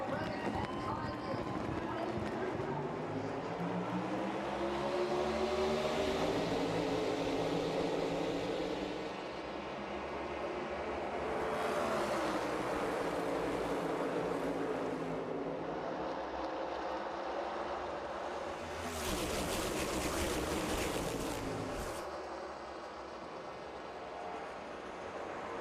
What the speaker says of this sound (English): The engines have been fired.